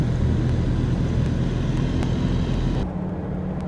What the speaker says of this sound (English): We start off in Hanoi with this constant traffic and never-ending noise.